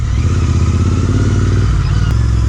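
Royal Enfield Interceptor 650 fitted with a MotoWings performance exhaust, idling with a steady low rumble close by, with faint clatter and a brief knock near the end.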